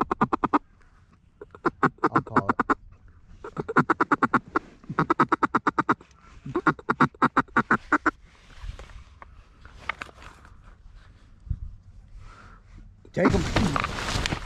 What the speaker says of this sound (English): I see one Drake Mallard in there.